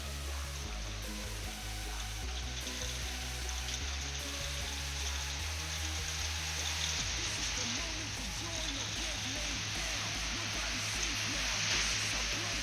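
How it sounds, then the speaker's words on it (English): Heavy rain falling, a constant dense hiss of drops on surfaces that swells slightly toward the end, steady and fairly close with no voices. "Well, that's a lot of rain."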